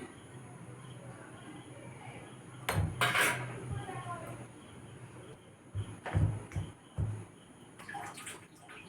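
Palm fruit fritter batter gets worked and beaten by hand in a bowl, giving soft wet squelching over a faint background hiss, broken by a few louder clinks and knocks against the bowl.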